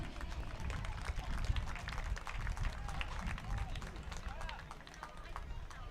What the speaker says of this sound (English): Please, round of applause for Ethan Bain.